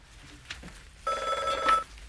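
A telephone rings in a home in a comedy series, one short, bright electronic trill sounding near and fairly loud after a brief quiet moment.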